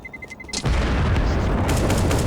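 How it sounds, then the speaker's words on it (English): In a Counter-Strike match on Inferno, a planted bomb finishes a few quick electronic beeps and then detonates in a loud, sustained boom that rolls on for well over a second. "It is going to explode."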